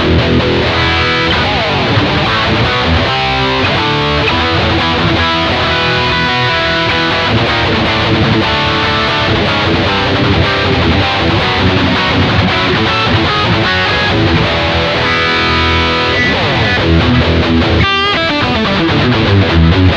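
A Leeky M Custom electric guitar plays loud, dense chugging riffs and chords continuously through heavy high-gain distortion, with a thick, saturated tone throughout.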